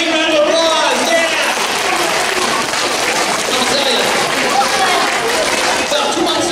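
A school assembly audience breaks into loud, dense applause that fills the hall evenly from start to finish, with some cheering voices mixed in.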